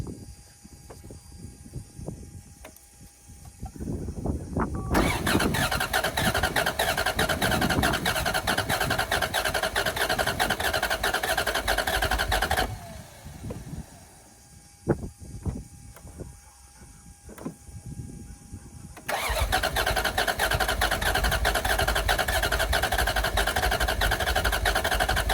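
A Toyota 1UZ V8 engine that has sat unused for years cranks and fires, running loudly in two long bursts with quieter pauses between them and a few sharp knocks.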